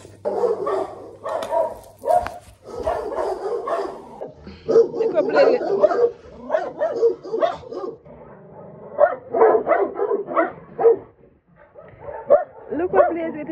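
Two pit bull puppies and a German Shepherd puppy bark and yip in repeated bursts, close and fairly loud, with people talking among them.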